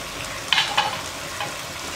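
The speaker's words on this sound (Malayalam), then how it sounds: "ഇപ്പോൾ നമ്മുടെ ചിക്കൻ തിളച്ചു തുടങ്ങി." Chicken roast with green peppercorns sizzles steadily in a pan over high heat, with a few short stirring scrapes cutting through the continuous frying hiss.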